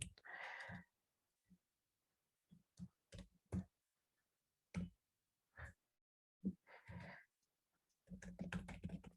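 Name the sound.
typing a command on a computer keyboard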